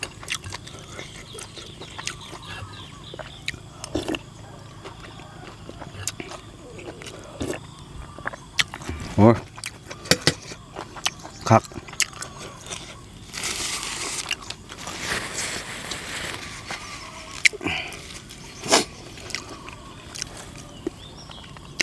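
Someone chews a crunchy boiled herbal fish soup close to the microphone, giving irregular crisp crunches and bites scattered throughout, with a louder rustling burst midway and faint background noise.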